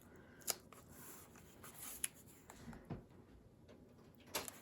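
Scissors trimming a white paper edge off a collage, with a few quiet, separate snips spread over a hushed room.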